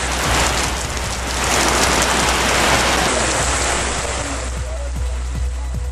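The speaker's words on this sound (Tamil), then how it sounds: "சென்னை உட்பட தமிழகத்தின் பல்வேறு பகுதிகளிலும் பரவலான மழை." Widespread rain falls across Chennai and other parts of Tamil Nadu as a loud, dense, continuous rushing wash with low rumbling underneath.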